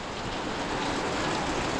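Heavy rain pours down in a steady, dense hiss with no breaks, filling the space evenly at moderate level during a stormy birthday gathering.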